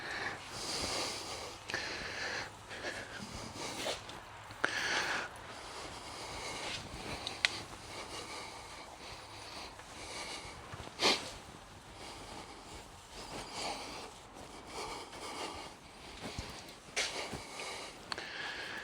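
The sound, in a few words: heavy panting breath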